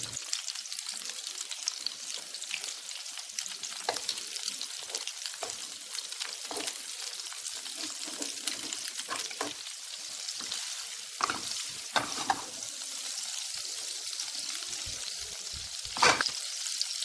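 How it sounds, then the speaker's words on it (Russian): Continuous crackling sizzle of shrimp heads frying in a hot pan, with occasional louder pops and scraping stirs, close and steady. "добавьте в нее головы креветок. Их нужно хорошенько выжарить."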